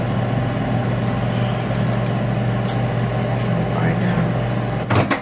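A microwave oven heating a tub of dipping chocolate on a dinner plate gives a steady, even hum, with a brief clatter near the end.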